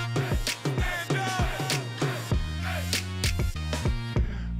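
A short radio-show jingle plays on its own: punchy percussive hits land in a quick, uneven rhythm under bright melodic tones and swooping sounds, ending with a final accent.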